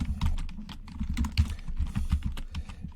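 Rapid, steady tapping of keys on a computer keyboard, close up, with uneven rhythm of clicks and no voices.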